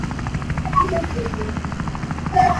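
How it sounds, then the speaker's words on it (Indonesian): Helicopter in a video game rescue mission, its rotor chop and engine drone running steadily throughout with small game sound effects chiming over it. "hari ini aku akan mengambil hadiah buat Dean pakai helikopter"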